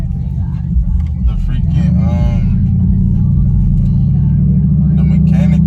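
A Chevrolet Impala SS fitted with a new exhaust cruises along, its deep, steady engine rumble droning loud and close inside the cabin while someone talks over it.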